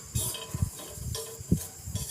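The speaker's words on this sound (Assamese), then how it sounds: "এইখিনি অলপ সময় ভাজি থাকিব লাগিব, ভালকৈ পোৰা যাব লাগিব" Jackfruit seeds roast on a hot tawa with a faint, steady sizzling hiss and a few soft low bumps as the pieces shift, quiet and close with no talking.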